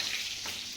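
Eggs fry in a hot pan with a steady, close sizzle and crackle of oil, continuous and fairly loud over a brief moment, no voices.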